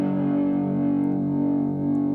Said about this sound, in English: That's called a G fifth